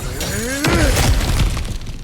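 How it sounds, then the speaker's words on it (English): Objects smashing in God of War Ragnarok, with a sharp shattering crash of breaking debris mid-clip over a steady game soundscape, followed by scattered clatter; a voice talks briefly. "back to smashing through things for fun and profit"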